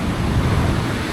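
Southern-coast surf breaking near a beach breakwater, a loud, continuous roar of waves with wind buffeting the microphone throughout.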